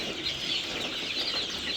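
A flock of Egyptian Fayoumi chicks about one and a half months old cluck and cheep continuously at close range, a busy overlapping chatter with no talking.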